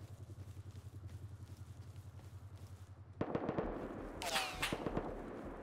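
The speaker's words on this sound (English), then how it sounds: "It sounds like they're shooting at me" Gunfire in the survival game Rust: a rapid burst of shots cracks out at close range over a steady rhythmic mechanical hum, followed by a harsh, noisy clatter.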